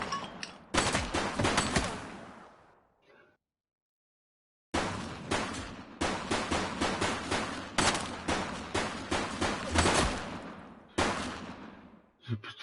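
Gunfire in The Precinct police video game: loud bursts of rapid shots in several volleys, with a short silent gap between the first bursts and a long run of repeated firing, no talking.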